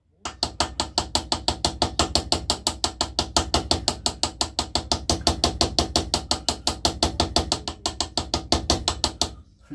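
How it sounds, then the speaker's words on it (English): Hammer peening a knife pivot pin on an anvil while building a slip joint knife, rapid steady metallic strikes roughly five per second, loud and close, continuing without pause for about ten seconds. "I get the other part of it lined on the anvil, and then just peen round in a circle."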